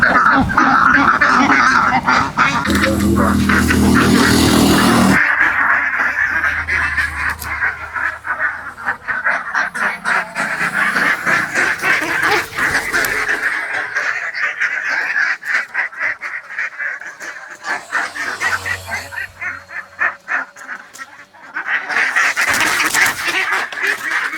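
A flock of ducks quacks and honks continuously and loudly nearby as ducks are caught, with a noisy rustling burst early on and some background commotion.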